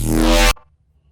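Serum synth bass patch with its processing turned off, sounding a single dry, buzzy bass note for about half a second that stops cleanly, leaving near silence.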